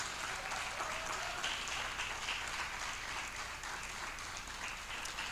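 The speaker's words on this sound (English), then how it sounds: "A warm round of applause" Sustained applause from a conference audience at a PR annual conference, a continuous even wash of clapping heard from a distance at modest volume.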